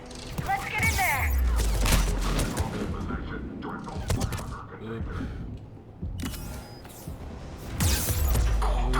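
Gunfire in Mass Effect 3 combat: bursts of shots and thumping impacts mixed with heavy combat noise, with voices talking over the shooting throughout.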